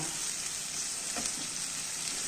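Spinach and minced meat frying in a pan, a steady broadband sizzle with faint scraping of a spoon as it is stirred, close and continuous throughout.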